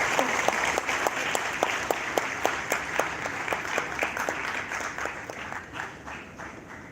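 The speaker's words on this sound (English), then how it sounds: "So I request all of you to kindly extend a warm welcome and a big round of applause for the distinguished" An audience at the University of Lucknow applauds to welcome a distinguished guest, steady rhythmic clapping from a sizable crowd held at moderate distance for several seconds, easing slightly toward the end.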